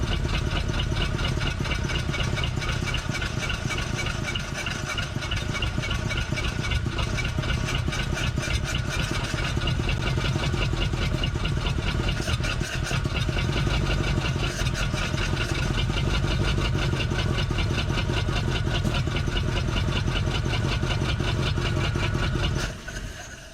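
A 1947 Ford Coupe's flathead V8 engine, abandoned for 15 years, drones at a constant high speed, loud and unwavering, then cuts off abruptly at the very end.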